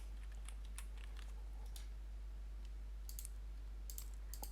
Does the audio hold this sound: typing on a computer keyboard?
yes